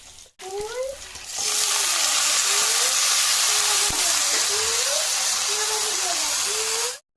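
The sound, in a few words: potatoes frying in a pan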